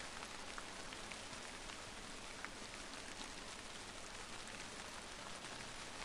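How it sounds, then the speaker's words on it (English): Rain in the video game Midnight Puppeteer falls in a dense, steady hiss of drops on surfaces, constant and even throughout with no talking. "It's the rain!"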